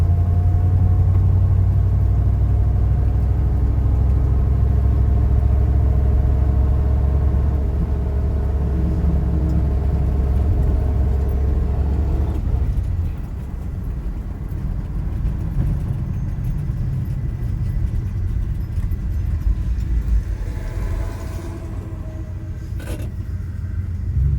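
A 1973 Dodge D100 pickup's engine rumbles steadily at close range as the truck pulls away in second gear, the loud low drone easing and thinning partway through with no talking.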